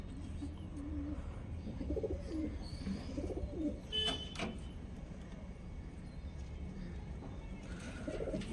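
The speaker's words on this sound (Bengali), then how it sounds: "এখানে সব পায়রাগুলো রয়েছে" Tournament racing pigeons coo in low, overlapping murmurs inside a loft, with a few brief knocks and rattles from the enclosure.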